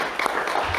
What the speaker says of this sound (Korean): 박수로 축하하고 환영하도록 하겠습니다